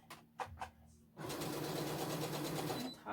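Sewing machine top stitching a vintage-inspired apron, a steady continuous whirring run that starts after about a second of faint handling clicks and holds near and loud to the end.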